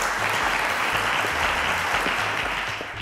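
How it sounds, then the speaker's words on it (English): Studio audience applause at a televised math quiz competition, a dense steady clapping that fills the whole stretch and tapers slightly at the end. "A round of applause to Ayomide."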